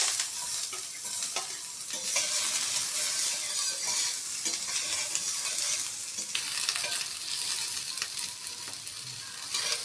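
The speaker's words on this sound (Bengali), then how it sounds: "আমার তেলটা গরম হয়ে গিয়েছে, এবার আমি সতে করে নিব আমার ভেজিটেবল। প্রথমে আমি ছেড়ে দিচ্ছি পেঁয়াজ" Onions sauté in hot oil in a pan for smoky vegetable noodles, a steady close sizzle with frequent stirring scrapes, no voices.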